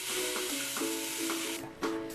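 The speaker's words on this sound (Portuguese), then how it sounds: "A massa de farinha de milho de trigo bem temperada vai para o fogo" Seasoned corn and wheat flour dough for tipaguaçu cooks in an iron pot over embers, giving a steady close sizzling hiss with faint tonal sounds in the background.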